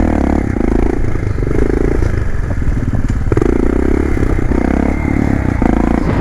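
A motorcycle engine revs hard and repeatedly during wheelie practice, loud and close, with rhythmic surges and drops in pitch and some clatter and scraping underneath, no talking.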